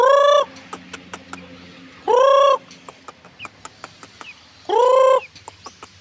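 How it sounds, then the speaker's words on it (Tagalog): A rooster and hens in a muddy backyard: three loud, drawn-out crows ring out, separated by bursts of sharp clucking and scattered pecking sounds nearby. "Dito yung ating tandang guys."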